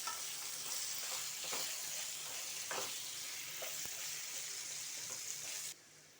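Raw cut vegetables are stirred with salt in hot frying oil, giving a continuous close sizzle broken by a few scraping strokes of a spoon in the pan before the sound drops off near the end.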